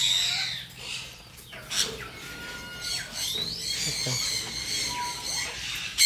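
Birds at an ornamental bird farm with macaws, sun conures and Thai birds give repeated shrill chirps and squawks at close range, over a steady background of cage noise while people talk nearby.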